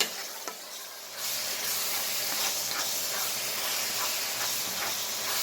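Ground meat for nachos sizzles and hisses in a hot pan, a steady loud frying noise broken by occasional scrapes and stirs once the meat is moved around.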